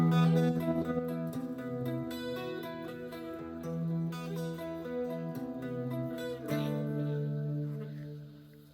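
An electric guitar on a clean channel plays an intro lick, a busy run of notes over a low sustained bass that continues without a break, fairly quiet with no speech.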